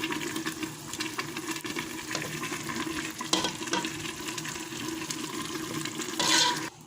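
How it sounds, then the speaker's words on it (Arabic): Spices sizzle and fry in a pot with onion while being stirred, a steady close hiss with scraping stir sounds and a brief louder watery burst near the end. "نزيد نحرك صافي ونحاول نحركها مزيان"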